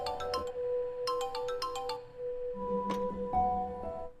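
A mobile phone ringtone rings in a drama scene, bright chiming melodic notes in repeated phrases over a steady tone, fairly close and with no talking.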